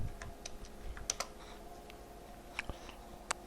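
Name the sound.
typing on a computer keyboard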